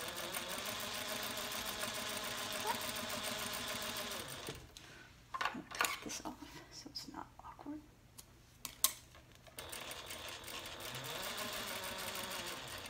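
Sewing machine stitching hidden handbag strap connectors with a straight stitch, a steady mechanical whir that stops in the middle for a few seconds of clicks and handling, then starts up again.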